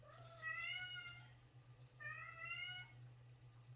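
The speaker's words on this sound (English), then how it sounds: "we're going to hear the cat meowing" Two drawn-out cat meows, one after another with a short pause between, over a steady low hum.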